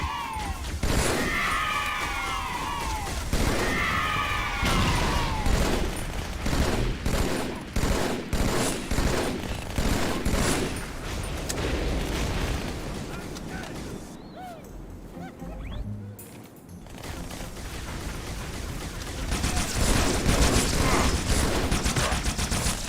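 Turret gunfire and battle noise from the Halo 2 PC game: sustained loud bursts of shots and explosive crashes, with a brief quieter lull before the firing picks up again.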